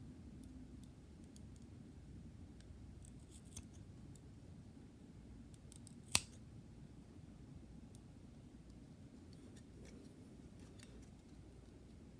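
Scissors snip trimmed edging pieces in a few quiet, sparse cuts over faint background hiss, one sharper snip standing out midway.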